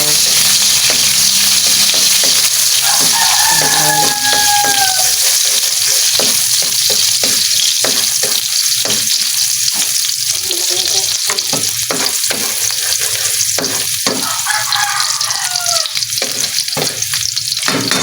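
Tuna sizzles in a pan with string beans and mustard greens, frying steadily throughout while a utensil stirs and scrapes in repeated short strokes, fairly close and loud with no talking.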